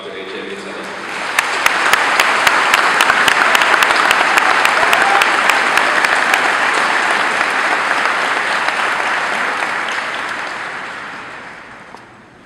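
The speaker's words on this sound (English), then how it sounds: "let's have a round of applause for our assistant principals and for Dr. A.J. Mutillo" Audience at a school graduation ceremony applauding the assistant principals: dense, loud clapping swells in after a moment, holds steady for about ten seconds, then thins and fades out.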